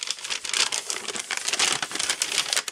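Old brown paper crinkles and rustles as it is handled up close, a steady run of crisp crackling with brief louder crumples.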